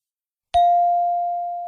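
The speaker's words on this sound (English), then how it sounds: "There was the chime that indicated an approaching visitor." A single bright electronic chime announces an approaching visitor, striking once and then ringing on as a clear, steady sustained tone that fades only slightly, loud and alone.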